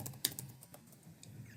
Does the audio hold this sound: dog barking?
no